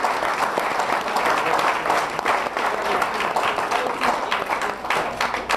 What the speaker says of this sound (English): So round of applause for these guys.